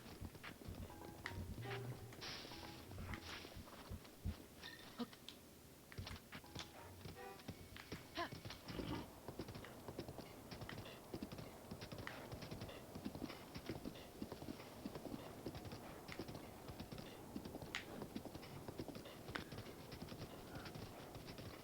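Steady clip-clop of horse hooves at a brisk pace in the video game Breath of the Wild, continuous and fairly close, with a faint whinny early on.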